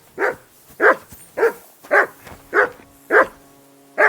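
A dog in the video game Kingdom Come: Deliverance II barks seven times in a steady rhythm, each loud, close bark carrying a whining, whimpering edge, with quiet gaps between them.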